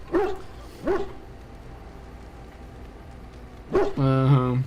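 A dog in Dragon Age: Origins gives several close, loud barks, two short ones spaced apart and then a final bark that trails into a drawn-out whining yip.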